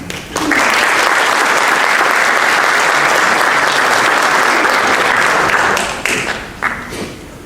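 Audience at a high school senior awards ceremony bursts into loud, sustained applause that holds steady for several seconds, then tapers off into a few scattered claps.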